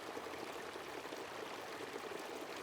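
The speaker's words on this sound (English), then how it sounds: "So the water kept flowing and flowing and flowing until it had filled up all of the Son's house." Steady rushing water in a children's story, flowing and pouring continuously as it fills a house, a broad even wash of sound with no pauses.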